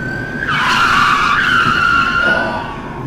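A car skids loudly to a stop, its tires letting out a long squeal that rises sharply, holds, then fades over about two and a half seconds, with no talking.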